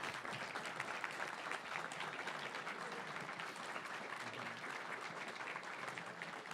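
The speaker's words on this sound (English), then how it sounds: "So please give a round of applause to yourselves just for being here." Audience applause at a charity gaming marathon finale, a dense, continuous clapping from a large crowd that stays loud and even for several seconds with no voices over it.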